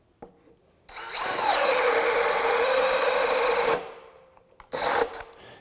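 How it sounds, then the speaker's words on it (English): A Craftsman V20 brushless 1/2-inch hammer drill bores with a 1-inch spade bit, its loud whining motor holding steady for about three seconds and audibly bogging down, with a brief click beforehand and a short burst of running again near the end. "You could hear it slowing with the 1 inch spade bit."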